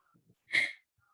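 A single sharp sneeze bursts out after a quiet pause, brief and fairly close, with faint breaths or murmurs before it.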